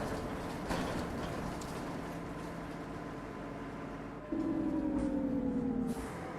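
An OMSI 2 tram in Wrocław, Poland slows down. A steady rumble runs under a faint, falling electric motor whine, and a brighter tone joins near the end as it drops in pitch.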